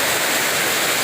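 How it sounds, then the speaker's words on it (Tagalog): Heavy rain pours down in a steady, dense hiss with no break, loud and close throughout. "Puting-puti na naman at napakalakas ng ulan niya"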